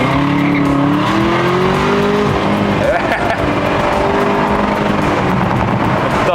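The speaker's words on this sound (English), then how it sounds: "Let's hear the ZL1." A loud Chevrolet Camaro ZL1 muscle car engine roars steadily nearby, revving and droning with a deep throaty tone throughout.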